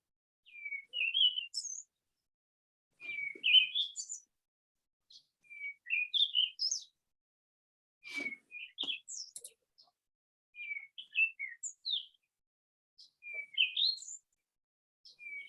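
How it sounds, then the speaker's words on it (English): Real birds chirping outside a window, with repeated bursts of short, high tweets and trills separated by brief pauses, fairly faint and distant, with no talking. "It's actually real bird sounds outside my window"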